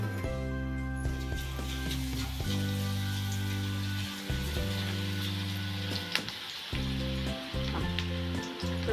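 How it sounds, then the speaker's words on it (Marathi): Bhaji fritters made from soaked batter sizzle steadily in hot oil, a continuous close crackle and hiss running alone beneath steady tonal background music. "गरम झालेल्या तेलातलं थोडस एक चमचाभर तेल घेऊन काय करायचं ह्या भिजलेल्या पिठामध्ये घालायचं आणि भजे बघा कसे एकदम मस्त छान होतात"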